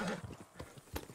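Horse hooves clip-clop in Red Dead Redemption 2, a few quiet, uneven steps in a short burst.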